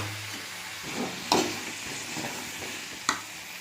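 Pumpkin pieces dropped into cooked masala in a pan give a faint, steady sizzle, with two sharper clatters of stirring or utensil knocks partway through.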